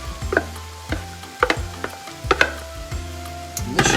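Mushrooms and zucchini frying in a pan for stuffed bell peppers, a soft hiss under repeated scraping stirs and clacks of a utensil, close and fairly quiet without voices.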